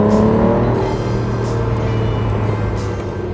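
A deep, steady engine rumble with a low droning tone from an Aston Martin DBS Volante convertible, loud and close, holding constant without speech.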